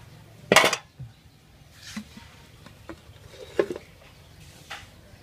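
Freshly picked greens clatter into a metal fish-steaming pot in a morning kitchen: one loud metallic clang, then scattered lighter knocks and rustles, fairly close with no talk.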